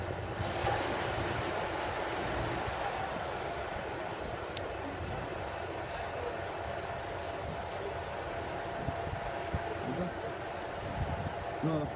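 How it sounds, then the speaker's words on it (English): Diesel locomotive at a heritage railway, its low steady engine rumble running throughout at moderate distance, with faint voices over the top. "there's just a diesel engine coming out there down there"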